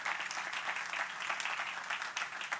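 A church congregation claps together in sustained, dense applause during a sermon, an even wash of many hands at moderate distance with no voices over it.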